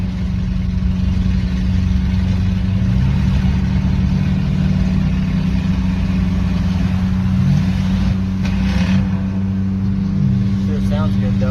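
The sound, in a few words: Ford Crown Victoria engine driving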